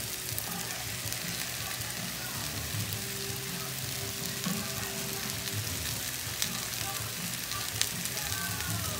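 Steady crackling sizzle of mushrooms frying in butter in a pan, continuous and close, with occasional faint clinks and no talking.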